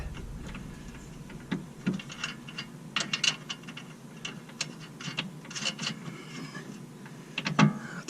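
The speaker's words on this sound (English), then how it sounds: "I'll tighten these down." Ratchet or wrench tightening new nuts on the lower control arm of a BMW E90 xi, a series of close, quiet ticking clicks and taps at an irregular pace, with no talking.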